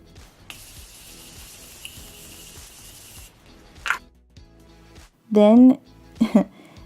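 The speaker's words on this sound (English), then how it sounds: "To finish the face, we're taking the Morphe setting spray." A long, soft hiss of makeup setting spray mist runs for a few seconds, then it stops and brief vocal sounds follow.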